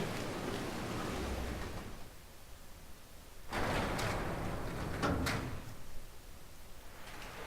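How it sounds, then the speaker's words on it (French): A muffled mechanical clunk and rattle, like a door latch releasing, rises out of a low ambient hum and fades back into it as a keycard door unlocks in the video game Resident Evil 0. "La porte est déverrouillée."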